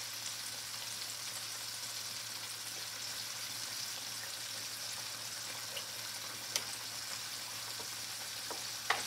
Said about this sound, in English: we're gonna let those tenders cook like 12 minutes